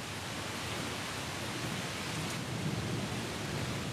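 Heavy downpour with rumbling thunder, a steady dense hiss of rain over a low rolling rumble, continuous and loud throughout with no voices.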